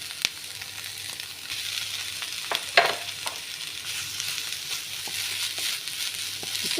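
Rice stirred in a sizzling frying pan while cooking carrot rice, a steady fry hiss with scraping stirs and a few sharper knocks of the utensil against the pan, close up with no talking.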